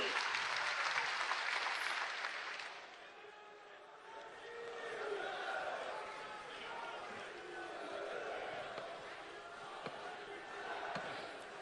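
Crowd at a rally in Assam applauds to welcome a politician, a loud wash of clapping that fades after a few seconds into a murmuring crowd, then swells again, with a voice speaking over it.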